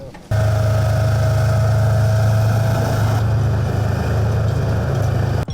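Tank engine at a military repair shop runs loud and steady during unloading, a constant low droning rumble that starts abruptly and holds close for several seconds before cutting off.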